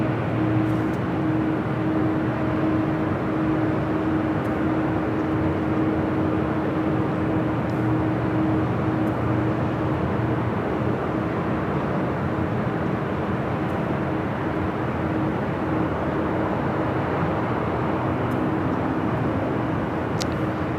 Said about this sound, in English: We also have China Eastern Airlines Flight 586 heading back to Shanghai, 777-300ER, heading up for a north side takeoff.